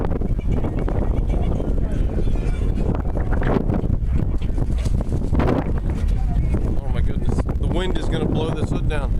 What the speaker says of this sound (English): Wind is going to blow this hood down.